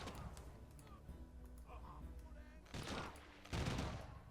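Arquebus gunfire in a strategy video game, with a few sharp volleys cracking out, the loudest two near the end, while someone talks over the battle.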